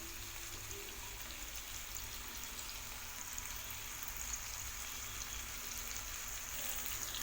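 Chicken tikka pieces fry in a pan over a medium flame, giving a soft, even, continuous sizzle that holds steady and fairly quiet throughout, with no voices.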